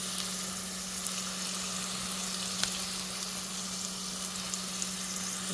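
A small amount of oil fries in a pan, a steady close sizzle with faint crackles and a low constant hum underneath, even in level throughout.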